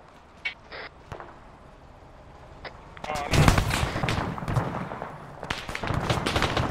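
Heavy .50 cal machine gun fire in a military shooter video game crackles in bursts, scattered early shots giving way to sustained loud volleys over the second half.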